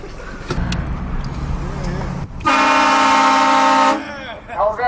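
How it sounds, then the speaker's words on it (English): A loud train horn fitted to a car blasts in a sustained chord for about a second and a half, after some engine and street noise, with a voice briefly heard around it. "How's that for a honk?"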